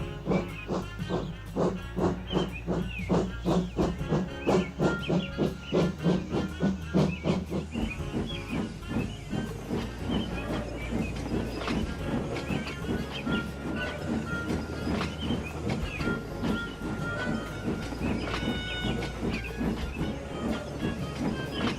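A steam locomotive pulls a train away, loud rhythmic chuffs and hissing steam at first, then settling into a smoother rolling rumble of wheels on track.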